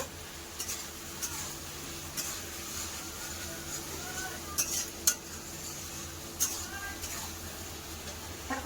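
Spice paste and fried potatoes are stir-fried together in a pan for a fish curry, with a soft sizzle under scattered sharp scrapes and clinks of a spatula against the metal, close and moderately loud.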